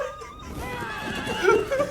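A horse whinnies loudly in a film scene from Django Unchained, a rising, wavering neigh heard close and clear over faint background sound.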